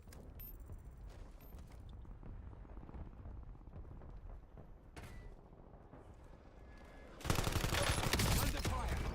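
Gunfire in the Warzone game: scattered bursts and single shots under game voice callouts, then a sudden, much louder volley of sustained fire near the end.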